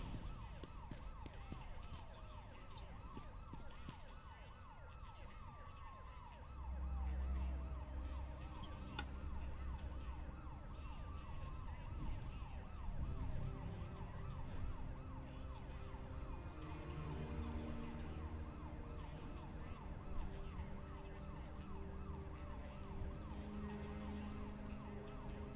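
A police car siren wailing in Rambo: The Video Game, its sweeping tones rising and falling continuously over game background music and engine rumble, steady and fairly loud throughout.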